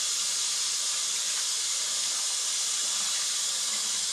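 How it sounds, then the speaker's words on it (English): Running tap water splashing over hands being washed in a home kitchen, a steady, loud, close hiss that holds unbroken throughout, with no talking. "I'm going to wash my hands."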